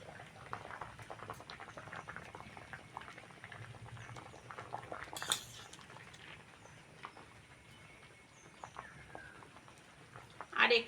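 Chopped raw mango cooks into jam in a pot, bubbling and simmering softly and continuously up close, with a few brief louder clatters near the end.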